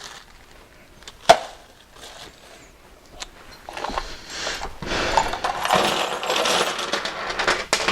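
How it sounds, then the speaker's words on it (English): Small quarter-20 nuts and bolts clink and rattle as hands rummage through a pile of hardware, with a sharp metallic clack early on, then a busier run of jingling and scraping, close by. "So now we're going to grab a couple quarter 20 nuts and bolts if I have any"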